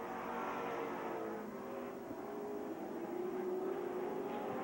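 Race cars on an oval short track at a fall classic event drone past with a sustained engine roar, pitch sliding as they pass, heard from a distance without talk.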